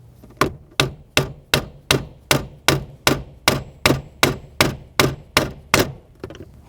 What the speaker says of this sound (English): we're going to gently tap it through. Using a soft face hammer